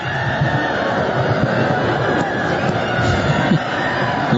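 Crowd noise from a football stadium during a Chelsea versus Leeds United match, a continuous dense roar of murmuring fans with occasional louder swells and a voice audible over it.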